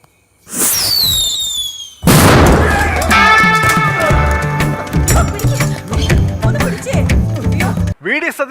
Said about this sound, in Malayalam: ദയവ് ചെയ്ത് ആ പടക്കം പൊട്ടികളൊന്ന് നിർത്തണം എന്ന് അപേക്ഷിക്കുകയാണ്